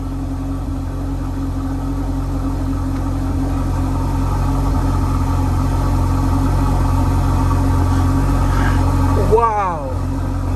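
A Ferrari Portofino's 3.9 litre V8 engine runs at a steady, loud idle, a continuous low rumble heard up close that holds throughout, with a brief rising rev near the end.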